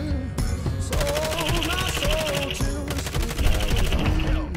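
Close-range automatic gunfire in Call of Duty Warzone, loud rapid bursts rattling almost continuously, with a voice speaking over the shooting.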